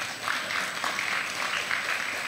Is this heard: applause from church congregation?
yes